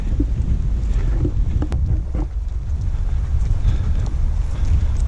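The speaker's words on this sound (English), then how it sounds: "I had to wait until the wind died down." Heavy wind rumble pounding the microphone throughout, a dense low roar with a few faint knocks mixed in.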